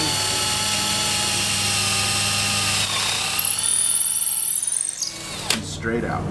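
A power drill bores into a wooden beam while building antler flower decor, its steady high whine running loud and close for about five seconds before winding down, with a brief clatter after.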